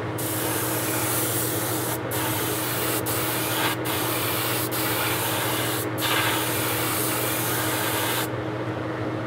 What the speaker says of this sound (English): Now I opened up the gun, so now I can spray the sides with a wider band.